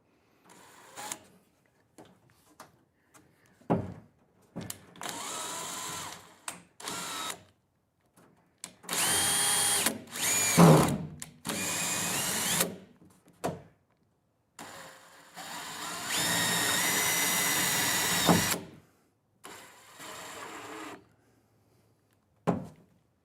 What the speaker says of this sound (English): So yeah, use your clutch on your drill.